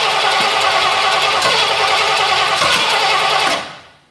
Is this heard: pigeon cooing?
no